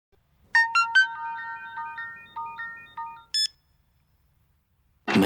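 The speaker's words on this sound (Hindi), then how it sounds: "अब फोन नहीं उठा रहा है। 2 रिंग पर कट कर रहा है" A phone ringtone plays a bright, beeping electronic melody for about three seconds, loud and close, then cuts off into near silence before a brief rustle at the end.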